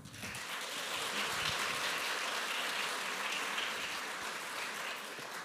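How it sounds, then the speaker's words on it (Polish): Broad, dense crackle of clapping from a crowd at a folk music concert, sustained and even for several seconds, fairly soft as if heard from a distance. "Dajmy duże brawa."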